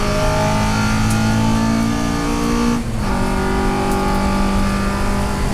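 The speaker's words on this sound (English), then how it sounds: "Here I am testing it out at Thruxton circuit, and immediately you could feel that the car was pulling better." A car on new 13-inch wheels laps Thruxton race circuit, its engine droning steadily and loud from close by, pitch climbing, with a brief dip around a gear change midway before it pulls on again.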